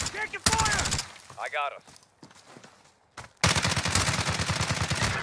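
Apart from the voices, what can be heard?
gunfire in a shooter video game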